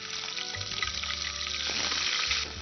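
Onion paste frying in hot oil, a dense, continuous hiss and sizzle that holds steady throughout, with a faint low rumble underneath and no talking.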